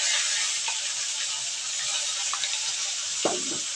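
Onion and garlic paste frying in a pan for a Bengali eggplant chutney, giving a steady, soft hiss throughout with a brief louder spatter near the end.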